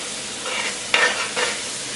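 Garlic sizzles softly in a hot pan while a utensil stirs it in a few brief scraping sweeps, close and fairly quiet.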